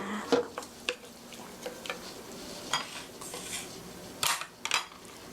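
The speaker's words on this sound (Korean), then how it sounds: "자, 이제 고루 섞어주세요." Utensil stirring a pork rice bowl mixture in a pan, giving soft scraping clinks and light sizzle in irregular bursts, close by with no talking.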